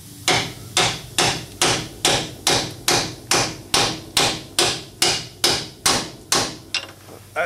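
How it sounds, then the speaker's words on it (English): Fourteen evenly spaced, sharp metallic hammer blows drive a bearing race into a Dana 44 axle housing, each ringing briefly before the next, loud and close with no talking. "Reach for my hammer."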